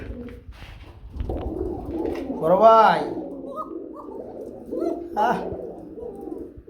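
Bombay fancy pigeons at a market coo in two distinct rolling bursts at close range, with people talking in between.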